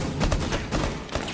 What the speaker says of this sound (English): Gunshots to cover the sound